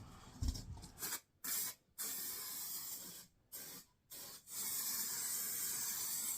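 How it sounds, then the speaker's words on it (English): Spray glue hissing from an aerosol can onto a campervan panel, a quiet close hiss in several bursts separated by short pauses, with a soft thump near the start and a longer final spray. "all I'm doing is dropping a bit of spray glue on"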